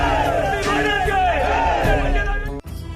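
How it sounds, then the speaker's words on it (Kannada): Crowd of fans at actor Ambareesh's memorial cheering and chanting together, a dense, continuous roar of many voices with rising shouts, then a brief dropout near the end. "ಅಂಬಿ ಸ್ಮಾರಕಕ್ಕೆ ಕೈ ಮುಗಿದು ಜೈಕಾರ ಹಾಕಿದ್ರು"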